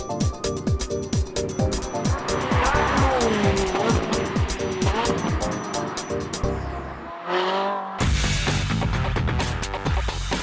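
A Ferrari 458 and a Formula One car launch hard under launch control, engines climbing through rapid rising gear-shift sweeps at high volume with tire squeal, then a brief cut before another loud, roaring pass.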